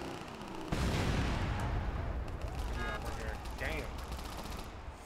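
A large explosion erupts in the video game Crackdown, a sudden loud broadband blast followed by a sustained roar of gunfire and rumbling booms, with brief tonal game effects layered over the chaotic battle noise.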